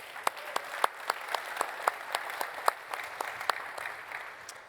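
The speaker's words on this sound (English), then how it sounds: "Let's give them another round of applause." Applause from the audience at a General Motors Hydrotec fuel cell event, a sparse round of distinct claps popping at an irregular rhythm over a soft room background, moderately distant.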